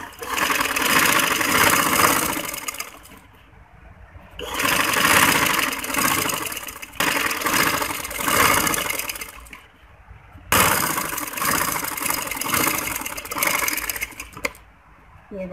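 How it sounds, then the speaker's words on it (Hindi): A sewing machine stitches a gathered chunnat-style sleeve in several loud, fast, whirring runs of a few seconds each, separated by brief pauses, close up. "अब हम यहाँ पर सिलाई लगाएंगे ऐसे पक्का करके।"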